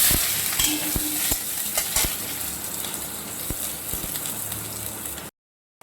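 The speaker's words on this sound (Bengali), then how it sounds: "কড়াইতে তেল দিয়ে দিচ্ছি এবার পেঁয়াজ কুচি আর লঙ্কা চেরাগুলো দিয়ে দেবো" Chopped onion and slit green chillies frying in hot oil in a wok give a steady near sizzle with a few sharp stirring knocks, alone without talk, before a brief silence at the end.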